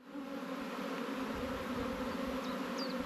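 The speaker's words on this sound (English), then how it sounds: "I don't know where all the bees are gone out of this side." Bees swarm with a steady, dense buzz around a beehive, loud and continuous throughout, with a couple of brief higher insect whines passing close near the end.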